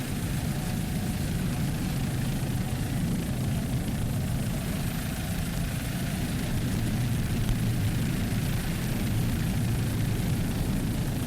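Super Cat Light outboard racing powerboats at the 2002 APBA Worlds off Mallory Square roar by in a loud, unbroken engine drone that holds steady throughout, with no voices over it.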